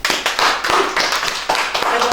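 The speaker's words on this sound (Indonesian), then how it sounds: "Tepuk tangan." A live audience claps together in quick, dense bursts, with sharp individual slaps standing out in an uneven rhythm throughout, loud and close.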